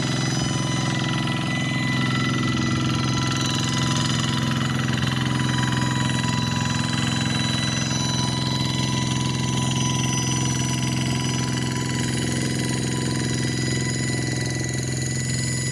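A tractor engine drones steadily throughout, loud and close, with a constant low rumble and no pauses or voices.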